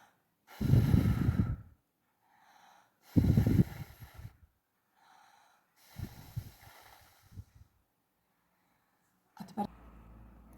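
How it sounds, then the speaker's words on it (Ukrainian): A child blows hard on a feather during a breathing exercise: three strong, breathy blowing bursts spaced a couple of seconds apart, close to the microphone, followed by softer breaths and a brief rustle. "Нам потрібно взяти ось таку пірінку і на неї добре-добре подмухати."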